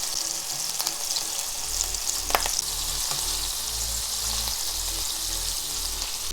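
Italian-style meatballs brown in a pan with a dense, steady sizzle, a low hum underneath and a few light knocks as they are turned.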